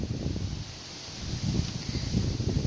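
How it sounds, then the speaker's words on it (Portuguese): Wind gusts against a microphone outdoors in a garden among succulent plants, a low rumbling buffeting that swells and eases, with no talk. "Tem bastante vento aqui, eu espero que não esteja atrapalhando."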